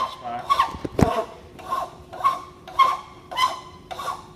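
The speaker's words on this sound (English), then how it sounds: "So on this one, I'm just going to file off those bad spots." A hand file rasps over the rough spots on a sand-cast metal part in about six short, evenly spaced strokes, close and moderately loud, with a sharper knock near the start.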